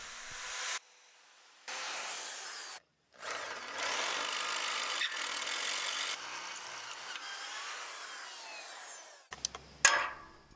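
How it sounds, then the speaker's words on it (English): A power drill whines steadily in several bursts, drilling holes into an old boat trailer with brief pauses between runs, ending with a few clanks and rattles. "Now I'm just going to drill 2 holes and bolt this sucker on."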